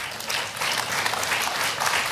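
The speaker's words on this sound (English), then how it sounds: "Now that's worth an applause." An audience at a speech by Vice President Harris on her economic opportunity tour claps steadily, a continuous wash of applause from a crowd at some distance.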